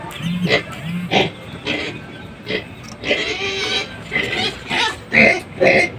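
Several hungry pigs squeal and grunt noisily nearby, in repeated loud outbursts with short gaps between them.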